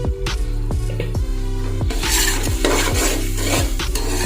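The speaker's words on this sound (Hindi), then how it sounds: "अच्छे तरीके से मसाले को भून लेना है। कटी हुई हरी मिर्चें भी डाल देनी है।" Masala with chopped green chillies being stir-fried in a pot for gobhi chicken, a loud rhythmic series of spoon scrapes and clanks against the metal over a continuous sizzle, steady and close.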